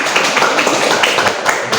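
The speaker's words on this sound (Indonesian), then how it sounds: "kasih tepuk tangan dulu buat teman." Classroom applause for a group of classmates in an Indonesian arts and culture lesson, a dense, steady patter of many hands clapping close by, sustained without a break.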